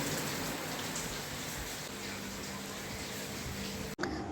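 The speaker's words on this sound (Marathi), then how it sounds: "पुन्हा पाऊस बघा किती मोठा चालू झाला आहे" Heavy rain pours down steadily, a dense continuous hiss that holds through the whole stretch before a brief cut near the end.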